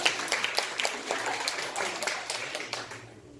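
An audience applauds together in a room, a dense burst of clapping that starts strong and tapers off over a few seconds, with no talk over it.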